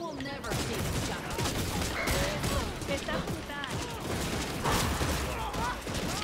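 Sniper and other gunfire in the Redfall video game, a dense scatter of shots and impacts running the whole time beneath a busy game mix, with voices talking over it.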